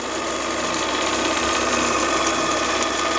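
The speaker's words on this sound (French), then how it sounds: "Le moteur est toujours vivant." A small steam launch engine on the boat Kristiana runs steadily on a first test, a dense continuous mechanical clatter and hiss heard close up without pause.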